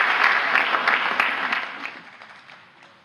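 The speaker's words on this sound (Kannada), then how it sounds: "ಇಲ್ಲಿ ಕುಂತಂಥ ಕೆಲವೊಂದು ಜನ ಚಪ್ಪಾಳೆ ತಟ್ಟಿದರು" Audience at a Kannada stand-up comedy show bursts into a round of clapping that is loud at first and gradually fades out.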